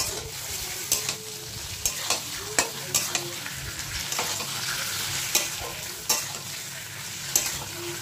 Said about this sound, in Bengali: ভালো করে ভেজে নিতে হবে এটা কিন্তু।